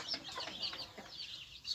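Female Burmese game hens clucking on a chicken farm, a steady stream of soft, overlapping clucks and chatter at close range, with a louder squawk at the very end.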